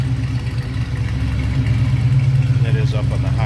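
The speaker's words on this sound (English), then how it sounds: "Nice little rumble out of that 350." A 1970 Chevrolet Nova's 350 V8 idles nearby on high idle with a deep, steady rumble, revving slightly toward the end while a voice speaks over it.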